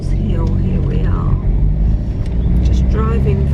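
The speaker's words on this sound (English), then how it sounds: "Just driving through the country." A car's steady engine rumble and road noise fill the clip while driving on a country road, with a voice speaking over the drone.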